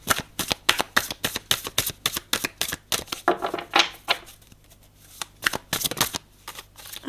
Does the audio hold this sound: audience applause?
no